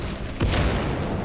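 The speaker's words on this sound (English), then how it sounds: "Deploying frag grenade" A frag grenade detonates in a video game with a sudden deep boom, then a rumbling roar that carries under continuing loud noisy battle sound.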